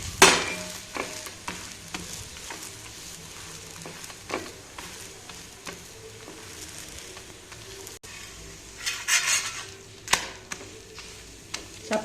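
Chapati cooking on a pan while being pressed down: a low continuous sizzle runs throughout, broken by soft scraping presses and occasional louder spurts of hissing, close up and without talk.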